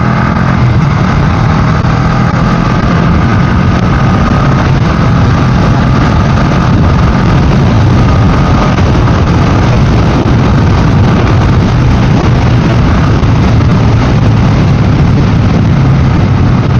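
A Honda motorcycle runs at speed on a busy road at around 110, giving a loud, constant engine drone and wind rush with no pauses for the full stretch.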